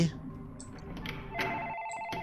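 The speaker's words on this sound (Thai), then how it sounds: "โทรศัพท์ดังดีจ้า" A telephone rings in the horror video game Night Freak, its bright electronic ring pulsing over quiet game ambience and faint background sounds.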